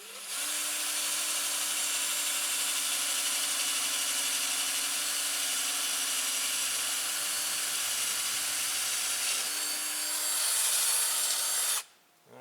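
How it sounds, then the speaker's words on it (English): A power drill with a 5/16 bit bores through a wiring lug, a loud, steady high whine that holds for about eleven seconds before cutting off abruptly, with no talking. "So I'm using a 5/16 drill bit because the posts on those batteries are 5/16."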